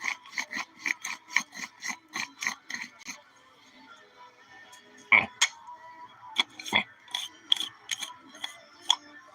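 A hand grinder is twisted to a fine grind, making a quick run of rhythmic rasping crunches, then a pause and a sparser series of grinding clicks, close and clear.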